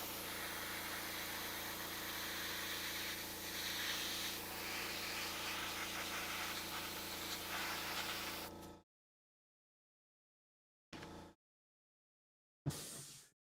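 Aerosol primer sprays onto a large model in a steady, close hiss for about nine seconds, then two short bursts follow after pauses.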